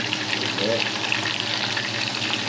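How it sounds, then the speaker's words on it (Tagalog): Meat frying in oil for Filipino bistek, a steady close-up sizzle and crackle with faint stirring that keeps going without a break. "Para maprito na siya."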